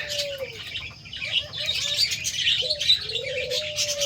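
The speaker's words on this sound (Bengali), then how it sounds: "পাখি কিচিমিচি শোনা যাচ্ছে" Several caged birds chirp and whistle steadily up close, with a few longer gliding calls and a soft coo underneath, and no talking.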